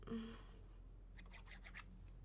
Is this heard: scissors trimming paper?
yes